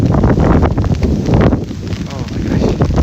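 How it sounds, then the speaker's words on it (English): Strong gale-force wind buffets a microphone outdoors by a field where kids practice soccer, a loud continuous low roar with gusty surges throughout. "Hurricane gale force winds there."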